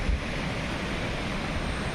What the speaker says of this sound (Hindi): पानी कलकल करता हुआ, बहता हुआ इस घाटी में गिर रहा है और ऊपर से गिरता हुआ पानी निनाद करता है